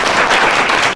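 A classroom of students at a coaching centre bursts into quick, loud, close applause for a classmate, a dense clatter that cuts off abruptly after about a second.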